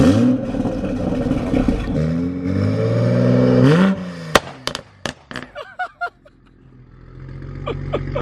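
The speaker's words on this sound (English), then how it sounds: "Spencer giving us a little startup on the Supra." A Toyota Supra engine starts and revs, climbing in several rising, whining surges, then bursts into a quick series of sharp pops and crackles before settling into a low, steady idle.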